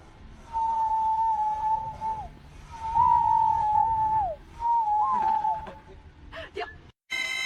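Three drawn-out whistles from a walrus, each held steady then dipping at the end, carry over a low background, followed by a few short scrapes and a brief burst of noise at the end.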